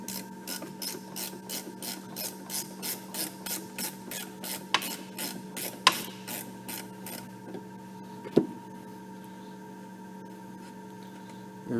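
A ratchet wrench clicks steadily as it backs off a master cylinder nut on a Corvette, a fast even rasping series that stops partway through, followed by a few sharp knocks, close and fairly quiet.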